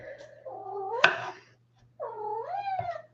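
A pet cat meows in a kitchen during Christmas apple pie baking, giving two drawn-out, rising-and-falling meows with a short pause between them, close and fairly loud against a steady low hum.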